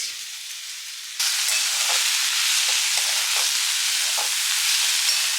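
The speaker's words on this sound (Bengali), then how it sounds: "একটু নাড়াচাড়া করে নিয়ে এবার এই গ্রিন পার্টটা দিয়ে দিচ্ছি।" Vegetables stir-fried in a hot pan, capsicum, spring onion and potato with turmeric and chilli powder, sizzle steadily, with a sharp jump in loudness as the greens go in and soft scraping stirs breaking through the hiss.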